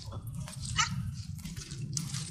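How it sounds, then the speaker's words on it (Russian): Dogs barking outdoors in short yapping bursts with some whimpering, close by over a low rumbling background, no talking. "Вот как поступают собаки. Они гавкают, но при этом убегают."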